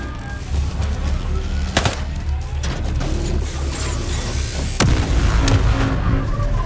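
Rocket launcher firing and exploding in the video game Ghost Recon Breakpoint: loud sharp blasts punctuate a dense rumbling battle bed of gunfire and booms, with a big impact near the five-second mark.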